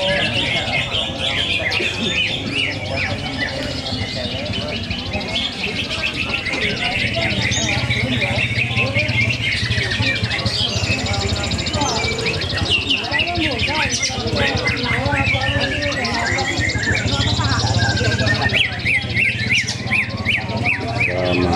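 Songbirds at a bird song contest at Barata Enterprise in Cikias sing densely and continuously, many chirps and trills overlapping, with a steady murmur of people talking underneath.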